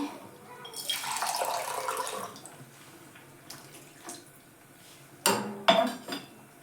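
Water pours steadily for about a second and a half into a pot with a hole that leaks, followed by sharper clinks of metal cookware and a second splashy burst near the end.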